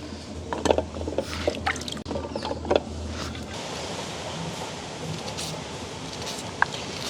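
Food being washed by hand in water during night village cooking of egg devil and puttu, with close splashes, drips and sloshing, busier in the first few seconds then a softer steady wash.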